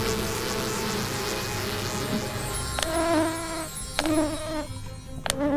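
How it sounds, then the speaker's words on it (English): Bees buzz in the Popup Dungeon video game: a steady, close insect drone runs throughout, with a few sharp clicks near the end and no talking. "Some bees."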